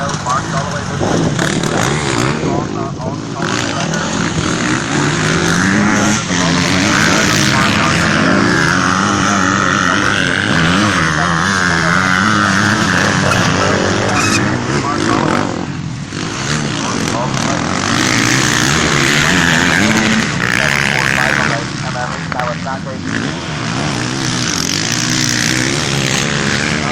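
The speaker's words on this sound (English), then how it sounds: "That's the Kawasaki of number 72, I believe, Mark Galloway." Kawasaki motocross motorcycles race at an open motocross event, their engines a continuous buzzing, rising and falling whine as bikes rev through the course. A commentator talks over the engine noise throughout.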